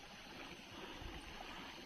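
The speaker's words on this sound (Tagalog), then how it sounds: "Grabing bukal kumukulo sa gitna" A boiling hot spring bubbles on Mount Apo volcano, a faint, steady rush of churning, gurgling water with no voices over it.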